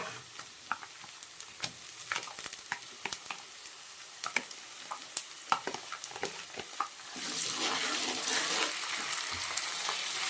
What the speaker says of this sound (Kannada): ಶುಂಠಿ ಬೆಳ್ಳುಳ್ಳಿ ಹಸಿ ವಾಸನೆ ಹೋಗೋವರೆಗೂ ಸ್ವಲ್ಪ ಫ್ರೈ ಮಾಡೋಣ